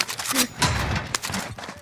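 Shotgun blasts in the video game Exfiltration, a few sharp broadband bursts spread over a couple of seconds amid game noise, with faint voices underneath.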